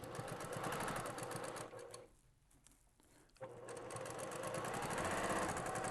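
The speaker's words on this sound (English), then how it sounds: "Okay, so now I'm stitching around. I'm going to sew all the way off of the edge." A sewing machine stitches through a thick fabric pot holder with a fast, steady mechanical whir, close by. It pauses briefly partway through, then runs on at a constant pace with no talking.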